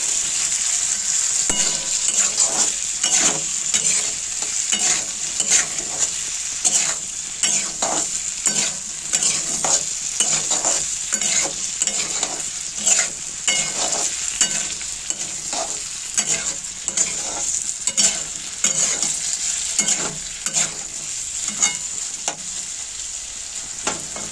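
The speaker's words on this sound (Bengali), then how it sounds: "নুন দিয়েছি, আর একবার নাড়িয়ে চালিয়ে নিই।" Salted vegetables cooking in a pan, a continuous bright sizzle with rhythmic spatula scrapes and taps repeating steadily throughout, close and fairly loud.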